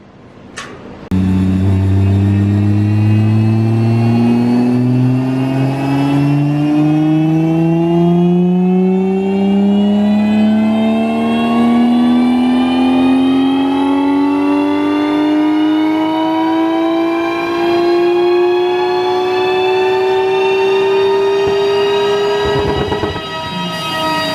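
A Nissan Skyline R34 GTR engine on a dyno sweeps in one long, loud, rising pull from low revs to a high whine, then cuts off abruptly.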